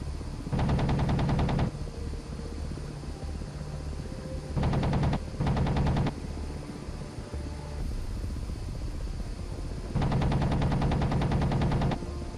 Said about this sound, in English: Destroying armored targets using the 30mm cannon takes considerably more ammunition